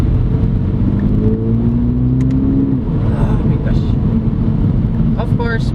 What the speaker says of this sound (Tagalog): being a sports car, there's a lot of tire noise